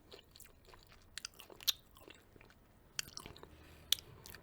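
Crunchy chewing of spicy Popeye's fried chicken tenders, close and quiet with a few sharp bites standing out, no talking.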